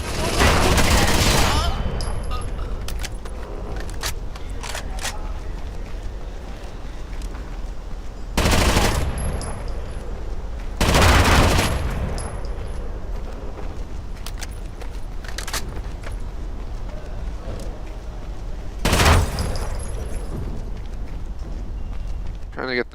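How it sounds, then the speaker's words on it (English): Gunfire and explosions from the video game Rainbow Six Vegas: bursts of loud blasts at the start and around 9, 11 and 19 seconds over steady rattling shots, with someone talking throughout. "All those explosions, all that gunfire, and the dude just shows up now."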